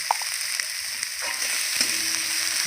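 Turmeric and chili powder sauté in hot oil for a rohu fish curry, a steady close sizzle and hiss with soft stirring scrapes and a few light clicks running beneath.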